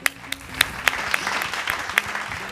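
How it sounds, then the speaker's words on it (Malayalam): Live audience clapping for a singer on a Malayalam music show, a fairly close burst of applause with several sharp individual claps standing out over a steady patter of hands. "ഒരു കയ്യടിയും കൂടെ"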